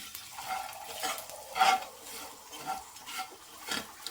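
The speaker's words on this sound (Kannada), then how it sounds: "ಈಗ ಇದು ಕೂಡ ಚೆನ್ನಾಗಿ ಮಿಕ್ಸ್ ಮಾಡ್ಕೊಳ್ಳೋಣ" Palak dal seasoned with red chilli powder is stirred in a pan, giving repeated scraping strokes in an uneven rhythm over a faint sizzle, close and alone.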